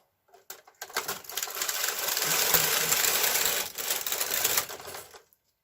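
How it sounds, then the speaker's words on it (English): Bulky-gauge knitting machine carriage sliding across a full row of yarn, a steady rattling whir lasting about four seconds with a brief dip midway, close and alone. "And now we're going to knit across again."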